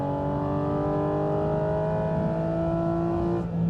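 A Porsche GT4 RS engine revs hard to about 7,000 RPM on the road, giving a loud, steady, high-pitched howl that holds for several seconds before easing off at the end, with no voices.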